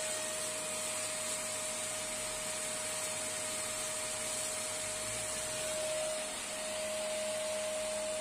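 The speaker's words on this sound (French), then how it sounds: "L'aspirateur il est branché sur le convertisseur." Vacuum cleaner running off a camper van's power inverter, a steady close whine with a constant tonal hum and broadband hiss that holds for the whole stretch with only slight swells, no voices.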